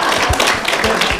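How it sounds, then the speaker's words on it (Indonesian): Audience applause at a high school class drama festival, a dense, steady wash of many hands clapping together, loud and continuous throughout. "jadi tepuk tangan lagi dong sekali lagi"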